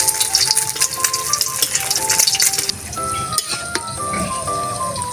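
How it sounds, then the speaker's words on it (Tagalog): Loud, steady sizzling of eggs frying in hot oil in a pan, a dense crackle that drops slightly partway through, with a few faint clinks. "pagkatapos po natin magprito ng ating itlog"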